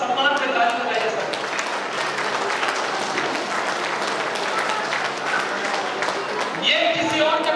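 A seminar audience breaks into sustained applause, dense crowd clapping filling the room while a speaker talks over it through an amplified voice.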